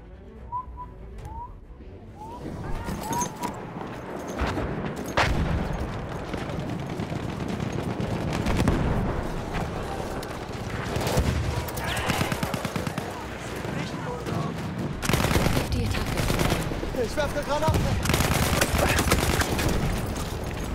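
Video game gunfire rattles in fast bursts through most of the stretch, loud and close, mixed with whistling effects and a busy game soundscape while someone talks over it.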